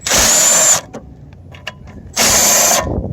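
A power tool, likely an impact or ratchet driver, works a bolt loose on a Tecumseh engine of an older Toro Recycler lawnmower, sounding in two loud close bursts with light clinks between.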